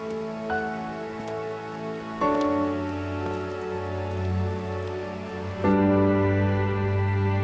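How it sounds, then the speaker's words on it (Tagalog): Steady rain patters on a surface, a continuous wash of drops with a low droning hum underneath and no voices. "Baka lumakas pa yung ulan."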